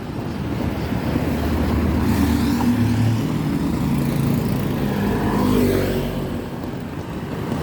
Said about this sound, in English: Motorbike taxi everywhere.